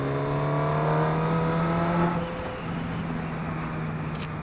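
Car engine droning close by as it passes and fades away, a steady hum for about two seconds that then recedes.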